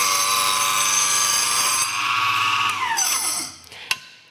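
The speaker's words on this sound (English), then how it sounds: "sometimes a chop saw will kick wood out and you want to be careful about" A chop saw cutting a small piece of wood for a picture frame: a loud, steady high-pitched whine through the cut, then the blade spins down and fades, ending with a sharp click.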